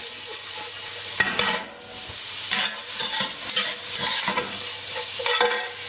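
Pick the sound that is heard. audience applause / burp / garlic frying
garlic frying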